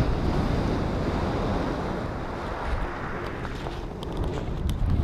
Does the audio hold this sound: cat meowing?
no